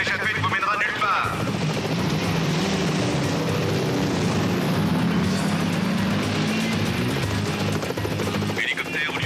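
A police helicopter in a chase scene thrums steadily and loudly throughout, its rotor noise blending with a dense, continuous roar that fills the whole stretch, while voices speak briefly over it.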